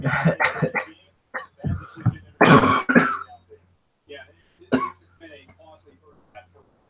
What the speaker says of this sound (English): Got a serious cough right now.